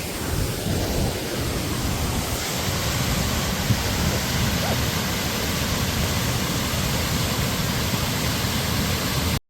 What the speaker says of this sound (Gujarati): ફાઇનલી અહીં નીચે ધોધ જેવું છે